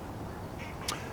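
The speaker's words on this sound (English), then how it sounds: "These ducks keep setting off my alarm." Ducks by a carp-fishing spot let out two short, faint quacks over steady outdoor background noise.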